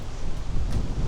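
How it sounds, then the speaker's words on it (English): Wind gusts buffet the microphone on a blustery morning near the Lion's Head trailhead in Cape Town, a steady low rumble with swelling gusts and no talking. "It's a windy morning."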